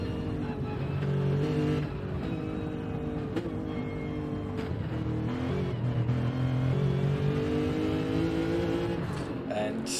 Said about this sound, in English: Close to abusing the gearbox with those heavy downshifts.